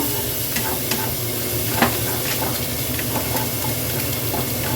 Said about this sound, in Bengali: এখন আমি তরকার মশলা ভেজে নিচ্ছি ভালো করে আর এদিকে একটুখানি ডিমের গুঁড়া টাইপের করে নিচ্ছি